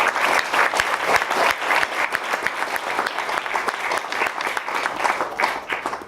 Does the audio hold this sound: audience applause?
yes